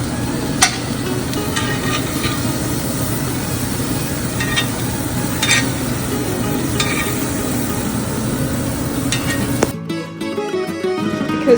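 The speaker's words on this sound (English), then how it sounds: "So I'm just gonna let these cook, saute a little bit" Vegetables sauteing in a pan while a steak rests, a steady close sizzle and crackle with occasional utensil clinks, running continuously before cutting off near the end.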